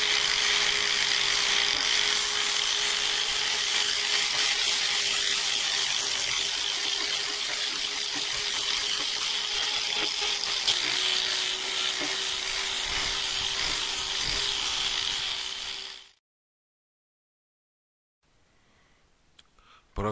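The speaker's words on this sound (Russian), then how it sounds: "снова зачищаем шкуркой" Sanding an artificial stone tabletop with sandpaper: a steady, close, abrasive whirring hum with a faint tonal drone that runs unbroken for about sixteen seconds, then stops abruptly, leaving near silence.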